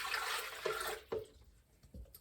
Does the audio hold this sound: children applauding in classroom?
no